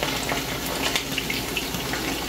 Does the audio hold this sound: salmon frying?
yes